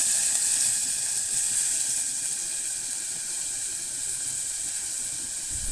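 Chopped onion fries in hot oil, giving a steady, even hiss that runs close and unbroken with no voices.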